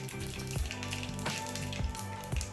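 Mustard seeds, fennel and asafoetida sizzle in a little hot oil in a pan, a steady close crackle with a few soft knocks and pops scattered through it.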